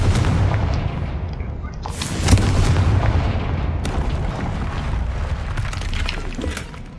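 Confringo explosive spell cast in Hogwarts Legacy, a loud booming blast with crackling debris and rumble that carries on for several seconds, with a sharper burst partway through.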